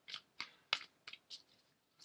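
Quiet, crisp card shuffling: a series of short papery snaps and riffles in an uneven rhythm, close by with near silence between.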